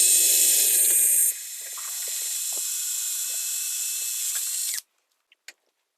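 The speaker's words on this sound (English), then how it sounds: "take a 5/32 drill bit and drill through the pre-drill holes in the view saddle" A 5/32 drill bit bores through the pre-drilled holes of a view saddle while framing for a sliding door: a steady, close, high-pitched drilling whine that shifts tone after about a second, runs for roughly five seconds, then stops, followed by a few faint clicks.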